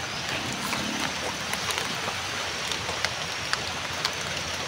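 Heavy rain pours steadily in stormy weather during a motorcycle outing, a dense continuous hiss with scattered sharper drops close by, no voices.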